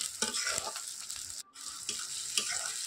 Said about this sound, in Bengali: আদাটাকেও দিয়ে কিছুক্ষণ ধরে ভাজবো